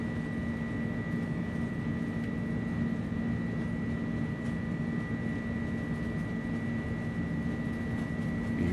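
Pratt & Whitney engines of an Airbus A300-600 roaring steadily during the takeoff roll at Seattle in a flight simulator game, a constant loud drone with tonal whine and no pauses.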